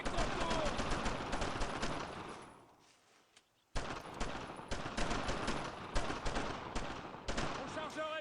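Dense, continuous gunfire rattles through a charge in the video game Brothers in Arms, with overlapping rifle and machine-gun shots, fading into near silence for a moment before the barrage resumes at full intensity.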